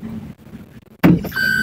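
Inside the cabin of a 2018 Toyota Camry G ex-Bluebird taxi, a quiet stretch gives way to a sudden surge as the engine comes up. It then settles into a steady, moderately loud hum with a thin high whine riding on top.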